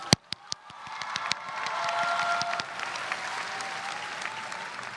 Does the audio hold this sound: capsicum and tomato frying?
no